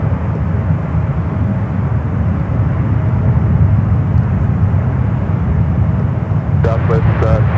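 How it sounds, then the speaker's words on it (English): United Airbus A320 jet at San Francisco airport, a loud continuous engine roar and rumble holding steady throughout, with a voice speaking over it and radio chatter bursts near the end. "Number 2 for Bravo, following this A320 with United."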